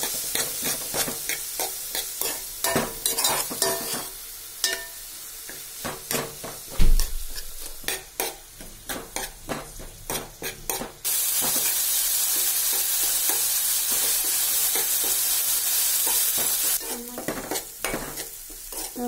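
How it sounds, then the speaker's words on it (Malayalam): Curry leaves and chillies stir-fried in a pan, with steady scraping stirs and crackling sizzle close by, rising into a loud continuous hiss midway before the stirring clatter returns. "കറിവേപ്പിലയും മുളകും കൂടി നമുക്ക് അത് ഇട്ടെടുക്കാം. ഇനി നന്നായി അത് ഇളക്കി കൊടുക്കാം."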